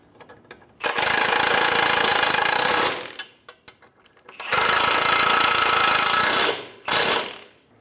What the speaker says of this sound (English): Using an 18mm socket, snug down the nuts.